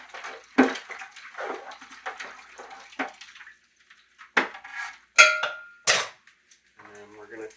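Splashing and clinking as water and ice brine are stirred in a container for curing wild turkey breast, in uneven bursts with brief quiet gaps between.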